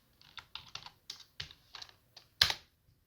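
Close, quiet clicks of a computer keyboard being typed on in short irregular bursts, ending with one sharper, louder keystroke.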